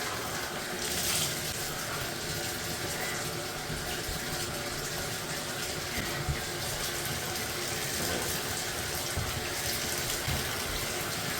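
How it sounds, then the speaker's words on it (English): Tap water runs steadily into a bathtub during rinsing, a constant faint hiss and splash with no break, heard from close by without talk. "We're gonna keep the water running, so don't mind that noise."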